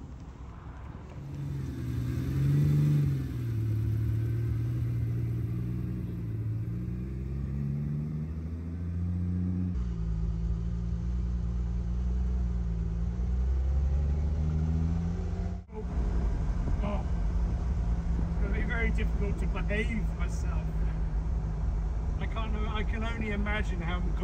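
A Ferrari 250 GT Coupe engine rumbles and revs during a road test drive. The deep, steady drone rises and falls in pitch and carries on beneath ongoing conversation inside the car.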